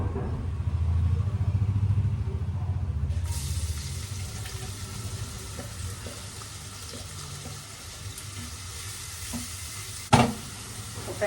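Onions go into a hot pan with asafoetida and hiss in oil at close range, the sizzle loudest at first and settling into a steady crackle, with a brief clatter near the end.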